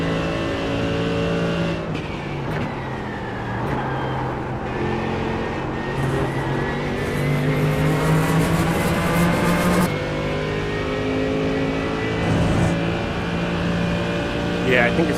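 A race car engine in a sim racing video game drones and revs steadily, its pitch climbing and falling through gear changes, loud and continuous under a person talking.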